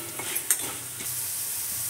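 Raw potatoes for sabudana khichdi fry in a pan while being stirred, a steady close sizzle with a couple of quick spatula scrapes early on, no voices.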